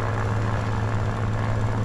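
A Do 335 twin propeller fighter in War Thunder drones with a steady, loud, low engine hum and constant prop noise, unchanging and close, with no talk.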